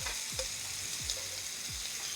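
Steak sears in a pan over medium-high heat with a constant bright sizzle, and several low thumps and scrapes mark the pieces being flipped in quick succession.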